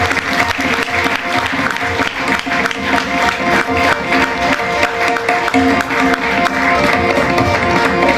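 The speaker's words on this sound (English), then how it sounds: "Let's boost their morale once again with a loud clap." An audience at an award ceremony for achievers claps loudly and steadily, a dense roomful of applause holding at an even level throughout.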